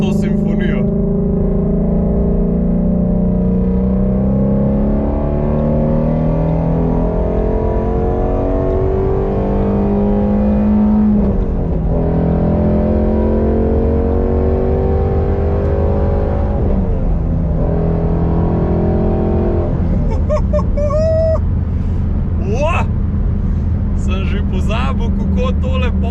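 A Yamaha YFZ450 quad engine drones steadily and builds in pitch as it accelerates at half throttle up to about 6000 rpm, loud throughout, with someone talking over it.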